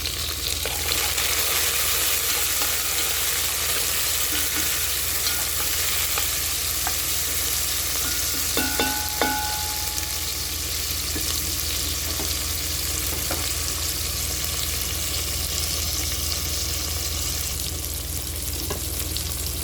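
Tomatoes fry loudly in a pan for an Ilocano inabraw, with a constant close sizzle and scrape of stirring that runs throughout, no voices.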